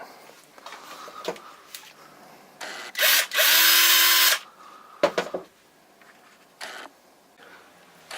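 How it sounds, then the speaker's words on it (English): A Ridgid cordless drill whirs in a couple of short bursts, then one longer steady spin, removing cover screws from an LG LW2415HR air conditioner, with clicks and handling noises between runs. "I'm going to start with taking off the top covers, and I'm going to use my rigid drill."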